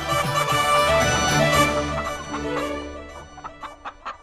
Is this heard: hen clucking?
yes